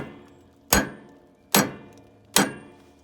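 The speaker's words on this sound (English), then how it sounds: "you don't have to hit these studs that hard, but you're just going to keep on tapping it" Three sharp metallic hammer taps on a front wheel stud of a 2007 Freightliner Columbia truck, evenly spaced, close and ringing briefly, with quiet between strikes.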